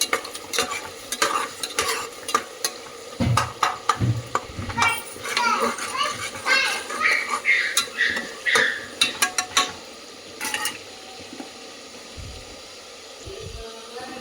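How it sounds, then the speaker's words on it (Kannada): Green chillies fry in a pan, a close sizzle with repeated scraping stirs, bursts of louder stirring in the middle and quieter crackle toward the end, with faint children's voices in the background. "ಈಗ ಹಸಿಮೆಣಸಿನ್ಕಾಯಿ ಹಾಕೋಣ. ಚೆನ್ನಾಗಿ ಫ್ರೈ ಆಗಲಿ."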